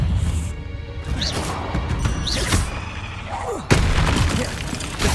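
Confringo explosive spell blasts in the Hogwarts Legacy video game, loud booming crashes over a dense noisy background of combat sounds, with a sharp burst near the end.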